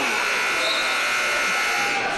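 A loud, steady electronic buzzer sounds continuously in a high school boys' basketball gym to end the first half, with crowd noise and voices mixed in.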